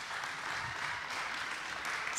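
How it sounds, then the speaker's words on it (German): Studio audience applauding as a cast member of a boy band show is introduced, a steady dense clatter of clapping hands at moderate distance. "Applaus"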